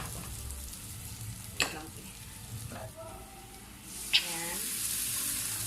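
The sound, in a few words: sizzling in frying pan as a little water is added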